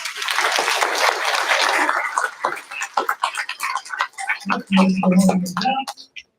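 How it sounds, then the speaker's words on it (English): A graduation-ceremony audience gives a short round of applause for students finishing 5th grade. Steady clapping lasts about two seconds, then thins into scattered claps with voices chattering. "Give them a round of applause."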